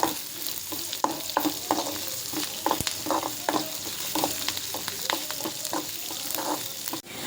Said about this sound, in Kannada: ಮಸಾಲ ಏನು ಸ್ಟಾರ್ಟಿಂಗ್ ತೊಗೊಂಡಿದ್ದೇವಲ್ಲ ಅದು ಹಾಕಿ ಮತ್ತು ಇನ್ನೊಂದ್ಸಲ ಈ ಥರ ಚೆನ್ನಾಗಿ ಫ್ರೈ ಮಾಡ್ಕೋಬೇಕು